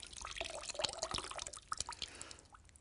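Water drips and trickles from soaked cotton fabric, a quick scatter of close, faint droplets and splashes that thin out toward the end.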